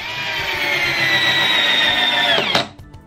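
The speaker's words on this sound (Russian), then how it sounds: "Давай закрутим 51-й Новую Русь в березу." Screwdriver drives a Novaya Rus No. 51 self-tapping screw into birch wood, a steady loud whirring motor for about two and a half seconds that rises in pitch at the end and cuts off sharply.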